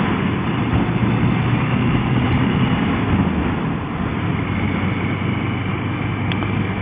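A motorcycle engine idles steadily up close, a continuous low rumble with an even throb that holds at a constant level throughout, with no voices.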